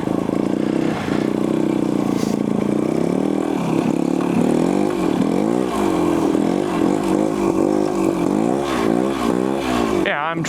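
A Yamaha TY175 trials motorcycle rides through winter snow with its single-cylinder engine revving and falling in repeated surges. The engine stays close and loud and wavers unevenly as the throttle opens and closes.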